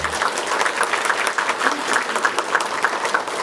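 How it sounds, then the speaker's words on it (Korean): A church congregation at a Sunday service breaks into steady, dense welcoming applause that holds evenly for the whole stretch, with no voices over it. "인사드릴 때 환영의 박수 부탁드립니다"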